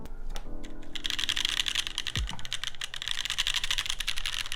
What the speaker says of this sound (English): But it does sound like a very unnecessarily heavily designed keyboard.